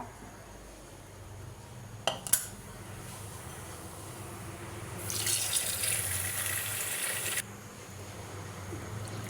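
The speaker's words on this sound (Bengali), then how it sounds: "শুটকিগুলো ধুয়ে নেব।" Dried fish is rinsed under a running kitchen tap, with a couple of sharp knocks of a pot or lid early on, then a loud steady gush of tap water for a few seconds that cuts off abruptly.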